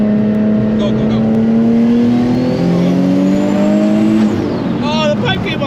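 Single-turbo Nissan 350Z making over 800 wheel horsepower accelerating hard on the street, a loud rising engine drone climbing through gears with a brief shift dip, heard from inside with people talking over it.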